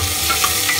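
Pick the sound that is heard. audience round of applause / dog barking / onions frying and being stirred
onions frying and being stirred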